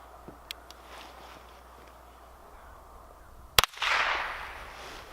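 A single sharp report from a Chiappa Little Badger compact folding backpack rifle fired outdoors at a target about 10 yards away, followed by a brief decaying echo and a hiss of ringing afterward.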